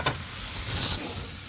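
Onion frying in a pan for an Anaheim pepper omelet gives a steady, close sizzle with light stirring scrapes, alone with no voices.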